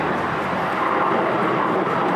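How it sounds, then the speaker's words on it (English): A helicopter passes overhead near a hospital, its steady rotor and engine roar loud and close throughout, a broad continuous drone with no talk over it. "Queens Hospital is right next door, so we get these flyovers by helicopters a lot."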